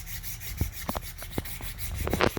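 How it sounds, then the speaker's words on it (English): A double-edge broadhead blade is rubbed back and forth on a sharpener, giving a run of short scraping strokes close up, uneven in spacing and growing busier toward the end. "I'm just going to work it back and forth like this. And what I'm doing is I'm creating a burr on the edge of that blade."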